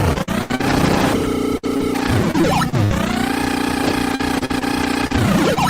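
A loud, continuous engine roar with rising and falling revving pitch and whining sweeps, like a racing motorbike in a video game, steady and close with no voices.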